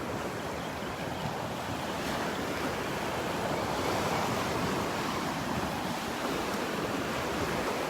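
Ocean surf rolling steadily onto Delnor-Wiggins beach in Southwest Florida, a soft continuous wash of waves with light wind noise, moderately faint and without voices.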